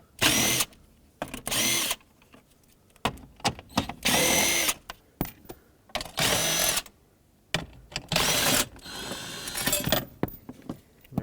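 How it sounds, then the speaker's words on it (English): A power drill or driver removes four 10mm mounting bolts from a plate during power steering motor replacement on a 2006-2011 Chevrolet HHR, with loud repeated whirring bursts separated by short pauses. "Then with a 10mm, let's remove the 4 mounting bolts for this plate."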